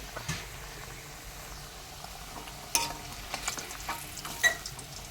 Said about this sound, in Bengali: আমরা একসঙ্গে চারটে পাঁচটা করে দিয়ে ভাজছি